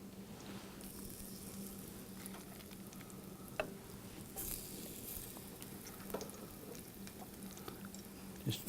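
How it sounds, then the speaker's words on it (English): Sweet potato latke batter sizzles and spits steadily in a hot frying pan, a continuous close crackle with occasional louder pops and soft stirring clicks. "So that's gotten hot. So I'm going to add some of this to the pan."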